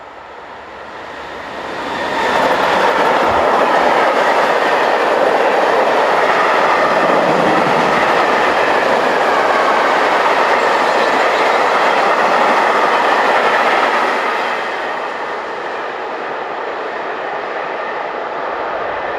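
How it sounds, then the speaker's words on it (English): Locomotive 185358 passes heading south with a long train of tank wagons, a steady loud roar with wheel clatter that builds quickly, holds for about twelve seconds, then eases as the train moves off. "we see 185358 heading south on a train of tank wagons."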